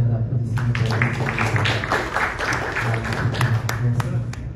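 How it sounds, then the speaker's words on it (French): Audience applause at a press conference for the Ivorian artist Josey, a dense, steady patter of many hands clapping that holds for several seconds over a low, continuous background hum. "J'aimerais que vous fassiez un tonnerre d'applaudissements pour vous."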